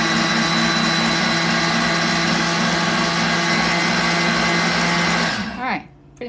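A cordless food processor whirs steadily at a high pitch while mixing a chocolate dessert, loud and constant for about five seconds, then slowing and winding down to near silence.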